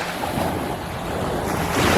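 Ocean waves wash continuously onto Biloxi Beach on the Gulf of Mexico, a steady close surf roar mixed with gusty wind buffeting the microphone.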